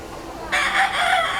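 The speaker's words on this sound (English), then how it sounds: "The roosters." A rooster crows loudly and close by over a background hum, the call rising suddenly partway through.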